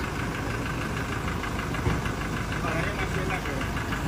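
A 2020 Nissan Livina or Toyota Innova engine idles steadily at close range, a continuous low rumble with a faint ticking knock running throughout.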